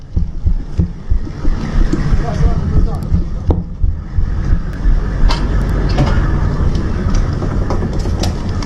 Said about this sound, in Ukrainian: Впереди щось їде. Їде танчик.